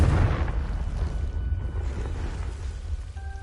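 A Confringo fire spell bursts in the Hogwarts Legacy video game, a loud close boom that fades into a rumbling low tail over a few seconds, with no speech.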